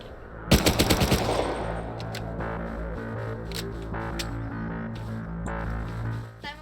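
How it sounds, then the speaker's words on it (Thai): Gunfire in the survival video game Rust: a fast automatic burst of close, loud shots rings out, then a few scattered single shots sound over a sustained droning game background. "ยิงมันยิงมันยิงมัน"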